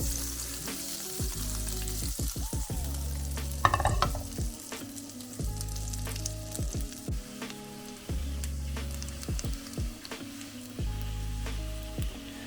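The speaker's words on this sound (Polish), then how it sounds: "Cebulę podsmażam na łyżce masła aż pięknie się zeszkli." Onion rings frying in a spoonful of butter make a continuous, crackling sizzle with scattered pops and occasional utensil clinks, close and moderate in level, no voices.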